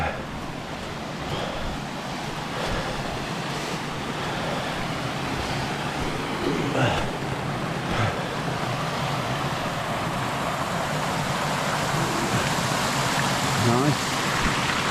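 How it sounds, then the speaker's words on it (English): Water from a small hidden waterfall along a countryside walking route rushes in a steady, loud, unbroken wash of noise throughout. "Lovely little hidden waterfall, never knew that was there."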